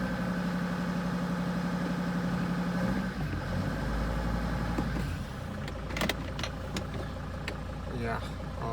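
A high-mileage Mercedes Sprinter van engine runs near the mic with a steady low drone that shifts and rises partway through as the RPMs climb, with some voices in the background.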